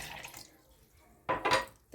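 Water splashes in short bursts over lemons and fresh mint for juice, with a brief pour near the end against a quiet room background.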